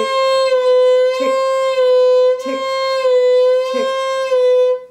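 A violin holds a steady sustained note in a second-finger vibrato exercise, two pulses per bow, with a gentle pitch waver. A voice counts out the beat over the tone in short, evenly spaced syllables.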